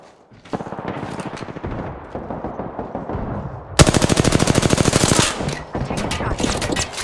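Rapid automatic rifle fire from an R-301 in the Apex Legends video game, a steady stream of close, loud shots that speeds into a dense, evenly spaced burst partway through, with more bursts continuing after.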